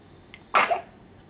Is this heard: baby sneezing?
yes